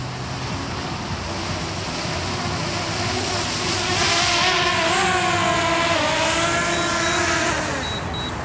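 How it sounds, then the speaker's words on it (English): A DJI Mavic Mini drone comes in to land outdoors, its buzzing rotor whine rising and bending in pitch over a steady rush of background noise before easing off near the end. "now I can land my drone."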